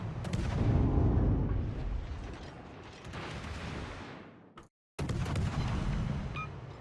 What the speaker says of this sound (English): that had to have been some Drake high explosive